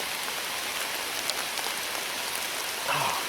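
Rain falls steadily on an outdoor 3D archery course during a traditional bow shoot, a continuous dense patter of drops on leaves and surfaces, close and even, with a slightly louder burst near the end.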